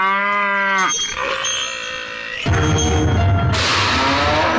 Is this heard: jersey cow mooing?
yes